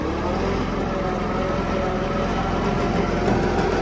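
A Kubota GT-5 mini tractor turning on the spot, its engine running in a steady, continuous drone close by.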